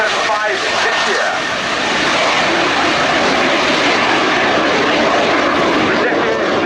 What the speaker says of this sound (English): the Morane-Saulnier MS760 Paris, accompanied by the Fouga CM175 Zephyr